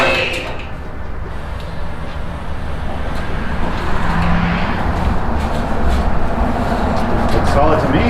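A Mayflower Blacksmith Pro 8000 four-post car lift raises a wide-body Volkswagen Golf, giving a steady, close mechanical whir and hum that holds constant throughout with no pauses.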